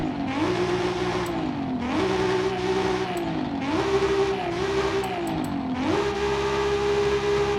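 Stock-cam Toyota Supra in Forza Horizon 5, its engine revving up and down in repeated rising and falling pulls, loud and close with no speech over it.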